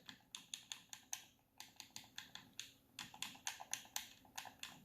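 Repeated clicking of the D-pad on an Xbox Series X controller, a rapid series of small plastic clicks in an uneven rhythm, close up, quiet, and heard alone.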